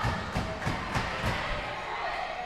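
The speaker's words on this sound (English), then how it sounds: "The crowd goes wild over here" Basketball tournament crowd at a junior high game cheering and hooting, with cowbells in the mix, a loud steady roar broken by several rhythmic bursts of noise.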